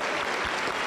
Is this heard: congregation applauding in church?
yes